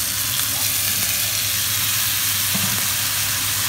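Marinated squid frying in a hot pan, with a loud, steady sizzle that runs without a break and no voices over it.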